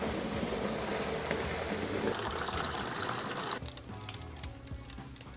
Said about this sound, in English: What's gonna happen when you pour in some liquid nitrogen?